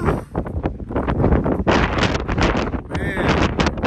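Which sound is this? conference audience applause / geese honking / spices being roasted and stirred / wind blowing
wind blowing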